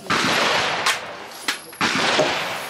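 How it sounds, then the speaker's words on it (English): Bursts of gunfire aimed at a dumpster outdoors, several loud sustained volleys separated by short sharp single reports, close and harsh. "I'm shooting that dumpster"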